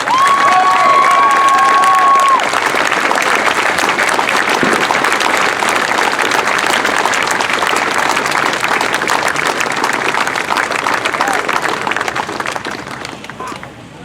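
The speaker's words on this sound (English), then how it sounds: "more round of applause." A standing crowd at a Fourth of July community band concert gives servicemen and women a long, loud round of applause with cheering and whistles, the clapping fading toward the end.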